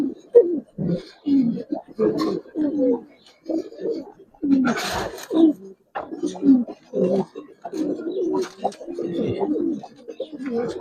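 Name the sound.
pigeons cooing in a loft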